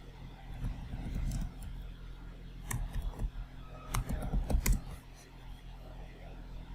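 Keys clatter on a computer keyboard while a search for Google Chrome is typed, in brief faint bursts of clicks over steady low room hum, without any talking.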